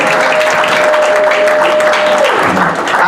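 Church congregation at a Pentecost celebration breaks into sustained, dense applause, loud and close, with a faint tone running beneath before the clapping thins slightly at the end.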